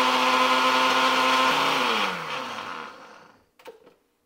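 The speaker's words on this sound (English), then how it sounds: "just take some graham crackers that you have and we're gonna just put it in a blender." A blender crushes graham crackers with a loud, steady whirring grind that winds down, the motor pitch falling as it slows to a stop, followed by a brief clatter.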